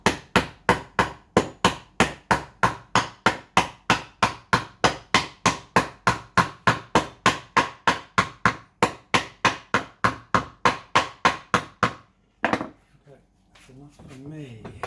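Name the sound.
hammering on a teak glue-up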